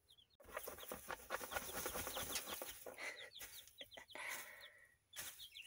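Chickens cluck and chirp close by, with busy overlapping calls, some wing flaps and scratching, no talking.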